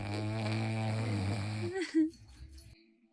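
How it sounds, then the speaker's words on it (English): A long, droning snore with a buzzing, rattly tone, ending in a brief snort before fading to quiet. "the snores from the one on the bed"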